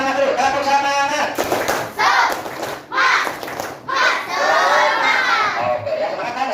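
Schoolchildren in a classroom perform a rhythmic spirit clap, clapping in patterned bursts while chanting and shouting along together, loud and close.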